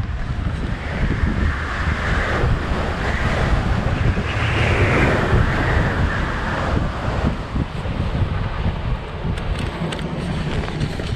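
Destructive Storm Arwen gusts batter an exposed mountainside at a wild camp, a continuous loud roar of wind buffeting the microphone with surging, rushing swells and no pause.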